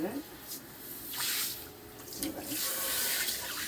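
Water runs and splashes steadily while a large vessel is washed, with bursts of spray rising and falling throughout and a voice talking over it.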